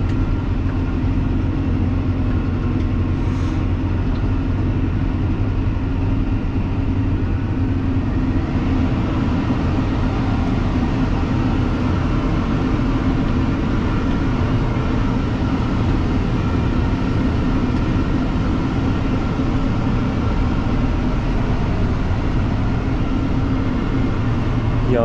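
Massey Ferguson tractor engine running in hot weather on a farm, heard as a steady, low, continuous drone from inside the cab with an even level throughout and no voices.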